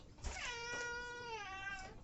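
A cat meows once in a drawn-out, rising and falling cry lasting about two seconds, fairly close and alone with no talk.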